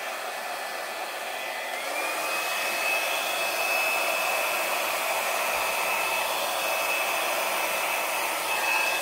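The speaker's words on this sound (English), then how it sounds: "how about if I hit it with a blow dryer where the horses are?" A hair dryer blows steadily and loudly throughout over wet acrylic paint, its motor whine holding a constant pitch with only a slight rise early on.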